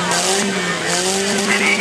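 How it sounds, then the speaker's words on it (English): A competition car brakes hard during a rollover event, tires squealing and skidding in a loud, sustained screech over the engine's roar. "There was a lot of braking going on in that car."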